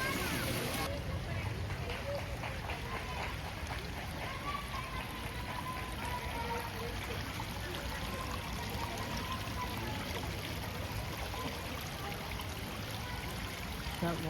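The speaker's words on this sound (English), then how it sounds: "That water runs along the sides of the steps" Water trickling and running in channels along the sides of garden steps in Torremolinos, a steady broadband splashing flow close by that continues throughout, with a voice speaking briefly over it.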